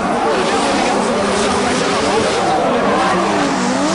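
Drift cars battle at Formula Drift Indonesia 2011, with engines roaring loudly and continuously under a constant rasp of revs and tire noise, while a commentator talks over the action.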